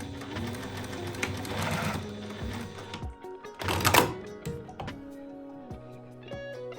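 A sewing machine runs in steady bursts while back tacking a seam on a bias skirt, its motor whirring close and clear, pausing and restarting without any talk.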